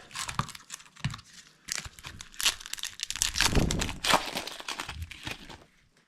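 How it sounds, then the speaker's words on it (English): Marvel trading card packs being ripped open by hand, close crinkling and tearing of foil wrappers in irregular bursts, building to a longer rustle in the middle before tapering off. "let's get on with ripping the packs"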